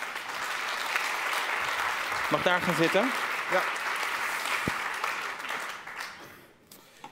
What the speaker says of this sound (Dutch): En geef onze hoofdgast vooral een warm applaus.